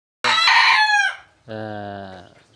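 A rooster crows loudly and close by inside a hen house, one long call that breaks and then trails into a second, lower drawn-out crow.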